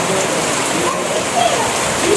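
Heavy rain pours down in a loud, dense, unbroken hiss of drops hitting surfaces close by, steady across the whole moment.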